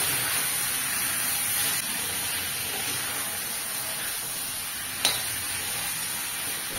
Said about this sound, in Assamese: আৰু মাংসখিনি মই অলপ আধাতকৈ বেছি সিজালৈকে ভাজি ল'ম।